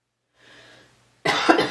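A single sharp cough bursts out close by after a moment of faint breathy noise, loud and brief.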